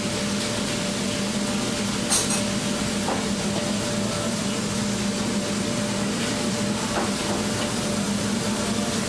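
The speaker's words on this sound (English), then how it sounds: "a little shallow frying of the pieces of meat" Steady hissing sizzle of pieces of meat shallow frying in hot oil in a pan, continuous and fairly loud, with a few faint clinks of utensils.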